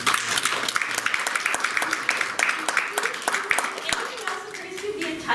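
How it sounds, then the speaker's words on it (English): Audience applause after an academic talk on transnational mobilities, a steady patter of many hands clapping with a few sharper individual claps, lasting throughout at moderate level. "why don't we give a round of applause now?"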